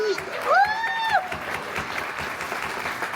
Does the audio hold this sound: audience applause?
yes